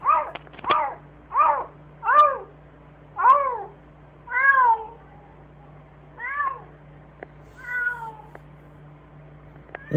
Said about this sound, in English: That's a cat, right?